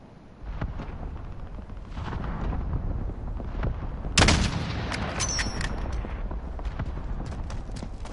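A cluster strike in Call of Duty Warzone hits with a rolling series of heavy explosions, the loudest blast landing near the middle and followed by scattered smaller booms and crackle over a constant low rumble.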